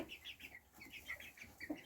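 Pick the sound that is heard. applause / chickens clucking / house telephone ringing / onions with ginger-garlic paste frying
chickens clucking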